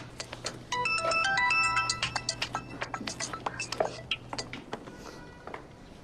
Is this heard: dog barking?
no